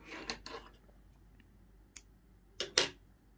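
Scissors snipping thread after crocheting needle lace: a few quiet, close, sharp snips, two early and a cluster near the end, over faint room background.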